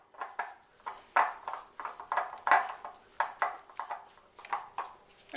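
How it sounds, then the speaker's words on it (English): Brown sugar, flour and melted butter are mixed together in a small bowl, with a rhythmic run of close clinks and scrapes from the utensil against the bowl. "I'm going to put my brown sugar, my flour, and my melted butter into a small bowl and mix it all together."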